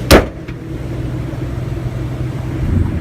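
A car engine starts with a sharp crank burst, then settles into a steady low idle rumble close by, swelling slightly near the end.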